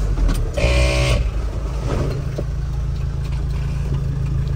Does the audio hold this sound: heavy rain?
no